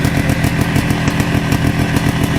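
Mini bike engine with an FMF exhaust running loud and close, a harsh buzzing drone with rapid pulsing exhaust beats held steady and alone.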